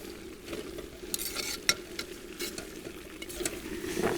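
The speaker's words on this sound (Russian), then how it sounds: "Перемешиваем лук с мясом." Onion and meat for plov sizzle quietly in the pot while a utensil stirs them, making scattered scraping clicks and knocks over the continuous frying hiss.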